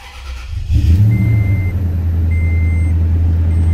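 A 2000-2006 Toyota Tundra engine cranks and catches, settling into a steady low idle hum close by, with faint high electronic beeps over it.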